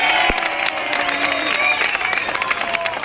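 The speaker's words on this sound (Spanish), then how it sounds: "Y otro aplauso para Bob Esponja y Patricio." Audience applause with a few cheers rising from a crowd at a live Nickelodeon Fresh Air show stage event, greeting costumed SpongeBob and Patrick; steady dense clapping fills the moment, with some voices mixed in.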